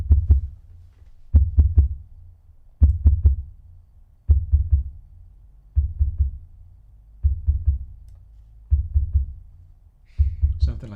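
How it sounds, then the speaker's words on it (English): A kick drum shaped into a Pink Floyd style heartbeat thumps in a steady double-beat pattern, eight low paired pulses spaced about every second and a half, loud and alone with no talk. "We are now going to try to make the Pink Floyd heartbeat sound out of this kick drum."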